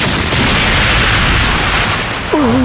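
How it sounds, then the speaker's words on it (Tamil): A loud explosion sound effect in a Tamil fantasy drama series, a sustained roaring blast with rumble that stays heavy throughout and tails off slightly near the end. "எனக்கு வெடி சத்தம் தான்."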